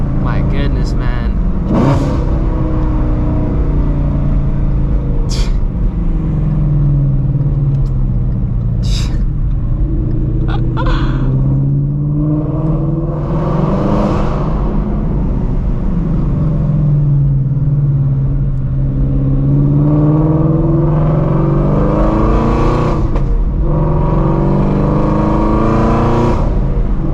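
A Shelby GT350 engine rumbles and revs as the car swings through a U-turn, its pitch rising and falling in waves beneath someone talking throughout.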